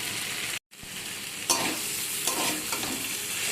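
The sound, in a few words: stirring boiled potatoes with spices in pan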